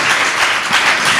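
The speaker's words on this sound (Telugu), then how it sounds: "చప్పట్లు కూడా దేవుని మహిమపరచండి" Dense, loud applause from a church congregation, steady and continuous for a brief moment with no other sounds.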